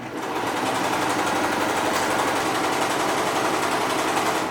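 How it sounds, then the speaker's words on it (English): A serger sewing machine runs continuously while chaining off thread, a steady loud rapid mechanical whir with a fast stitching rhythm that holds without pause. "then all you need to do is start chaining, and it's gonna pull this thread through your tension disc"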